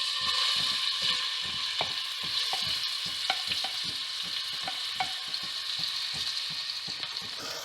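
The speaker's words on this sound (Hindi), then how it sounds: "प्याज हमारी फ्राई हो रही है।" Chopped onions fry in just under half a cup of oil for a besan salan, a continuous bright sizzle under rhythmic scraping strokes of a spoon against the pan.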